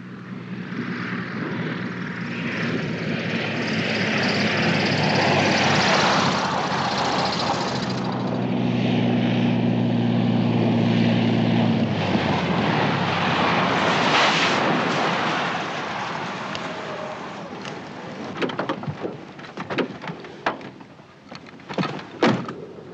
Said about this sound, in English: Plane's coming in for a landing.